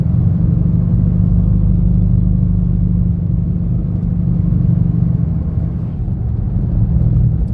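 A 2013 Dodge Charger R/T with the 5.7-liter Hemi V8 cruises at over 60 mph, a loud, steady low engine drone and road rumble heard from inside the cabin without talking.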